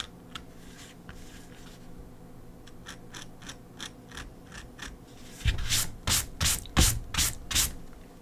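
A tool scrapes across a drawing of layered gryphon feathers in a rhythmic series of short rasping strokes, soft and sparse at first, then louder and quicker in the final seconds.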